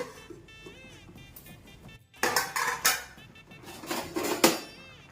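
Ragi flour being stirred in a metal cooking pot, a quiet stretch of faint hum and soft tones, then a run of close, loud scraping and clattering strokes of a utensil against the pot.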